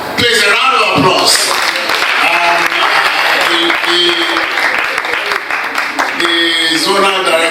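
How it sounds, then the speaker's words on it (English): Sustained applause from a crowd, a dense patter of clapping that holds steady throughout, with a voice briefly audible over it. "Please, a round of applause."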